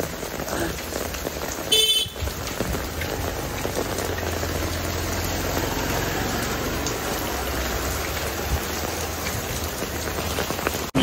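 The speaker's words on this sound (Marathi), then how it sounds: "आणि तुम्हाला जे पावसाचं हे होतं ते पण म्हणजे किती जोरात आहे" Heavy monsoon downpour in Mumbai, a loud, dense steady roar of rain hammering surfaces throughout, with faint traffic and occasional car horns underneath and a brief sharp knock near the start.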